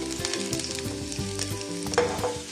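Ingredients for a Malvani crab curry frying in a pan, a close, busy sizzle broken by repeated stirring scrapes and clatters of a spoon against the pan.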